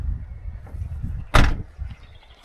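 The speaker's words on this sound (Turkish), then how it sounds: "Kilitliyorum kapıyı." A single sharp door clack, likely a house door being shut and locked while leaving for a mini camping trip, stands out loudly over quiet low room rumble.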